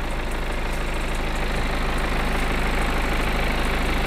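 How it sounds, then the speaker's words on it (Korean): A BMW 420d F32 luxury coupe's diesel engine idles steadily up close with a continuous, even, low rumble and faint mechanical ticking throughout, and no one talks. "엔진 소리 일정합니다"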